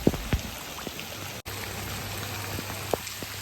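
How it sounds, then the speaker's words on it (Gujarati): Rainwater flows along a road in Palanpur after seven inches of overnight rain, making a steady close rushing wash with a few scattered drip and splash accents, no voices. "રોડ ઉપર અમારે નદી હેડે છે જો"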